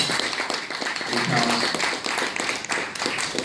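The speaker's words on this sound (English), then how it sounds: "Give a good clap." A crowd applauds with steady, dense clapping that holds at an even level for a few seconds.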